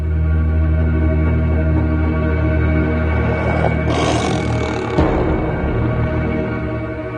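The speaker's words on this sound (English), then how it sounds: "And suddenly I heard the roar from the right. It was not loud, just low basso." A Siberian tiger gives a low, deep roar, a sustained basso growl that swells briefly and then trails off, heard alone without voices.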